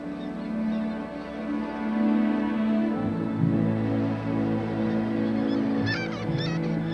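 Noisy seabird colony on Alaskan coastal cliffs where hawks, auklets, gulls and cormorants gather, a dense overlapping chorus of honking and crying calls at moderate distance, continuous with no talk.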